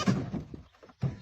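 A goat stuck with its head through a fence gives short, close bleats, two brief calls separated by a pause.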